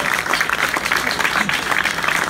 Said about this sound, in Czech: Tento potlesk patrí ale vám.